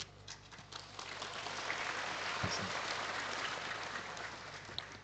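An audience at an Islamic religious lecture by Ustadz Adi Hidayat claps in sustained, steady applause for about five seconds, a dense wash of hand claps with no talking over it.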